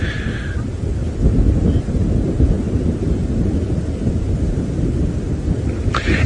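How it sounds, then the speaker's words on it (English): Steady low wind rumbling across open savanna grassland during an early-morning safari drive, a continuous broadband roar buffeting the microphone with no voices. "All we can hear is the wind."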